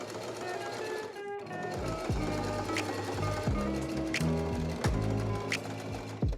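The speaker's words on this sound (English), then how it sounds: "Zigzag stitch on a length of 2 with a width of 6, and that gives you a really nice zigzag stitch" A Singer sewing machine runs a zigzag stitch at length 2 and width 6 in rapid mechanical bursts, with short pauses between runs and a few sharp clicks.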